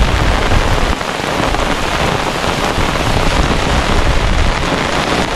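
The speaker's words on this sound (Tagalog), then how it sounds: "Ang lakas po ng ulan. Nabutan na kami ng bagyo." Heavy rain pours steadily on a fishpond during a typhoon, a dense, loud, unbroken roar of drops with gusty wind buffeting close to the microphone and no voices.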